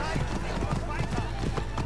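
Horse hooves clip-clop in the game Assassin's Creed Origins, a quick, even rhythm of hoofbeats close by, mixed under voices and game sound.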